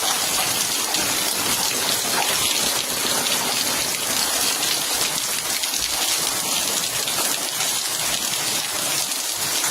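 Steady, dense rain pours down close by in a continuous hiss, with no distinct thunder rumble standing out above the downpour.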